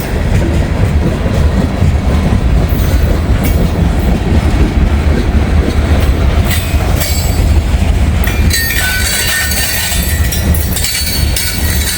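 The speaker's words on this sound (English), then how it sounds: "They're struggling up this grade. I guarantee that locomotive is pulling hard, man." A freight locomotive hauls gondola cars loaded with old railroad ties up a grade in Northern Kentucky, a loud, steady rumble and rolling wheel clatter passing close, with sharp metallic squeal rising toward the end.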